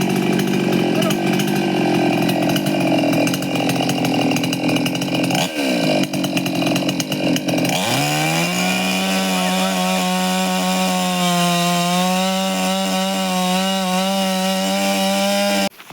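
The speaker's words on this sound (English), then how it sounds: "Now we are going to start by the chainsaw." A chainsaw cuts into wood to remove a beehive, loud and close. The engine drones at high revs as it bites through the wood, then drops to a steadier, lower-pitched running tone for the rest of the cut.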